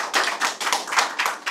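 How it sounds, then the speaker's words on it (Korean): Audience at a Korean citizens' academy lecture clapping to welcome the lecturer, a short burst of brisk, fairly close hand claps in uneven bursts. "박수를 크게 치시면서 맞이하도록 하겠습니다"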